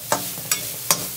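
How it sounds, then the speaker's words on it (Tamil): Grated coconut roasts slowly in a pan for a Kerala onion curry. A spoon scrapes through it in three evenly spaced strokes over a soft, steady sizzle. "ஸ்லோவாக ஸ்லோவில் வச்சுட்டு இதை செவக்க வறுக்கணும், கைவிடாமல் செவக்க வறுக்கணும்."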